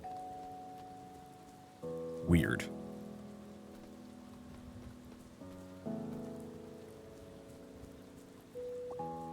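Acid rain patters steadily in a farming simulator game, a soft continuous shower under sustained musical tones and a brief sharp burst, with a person talking over it.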